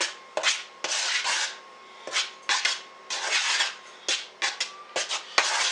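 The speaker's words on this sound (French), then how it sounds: "Je vais juste mélanger ma farine au sel et poudre à pâte." A spoon scraping and stirring flour with salt and baking powder in a bowl for Christmas and Valentine's Day biscuits, in repeated bursts of gritty rubbing strokes with short pauses between them, close and clear with no speech.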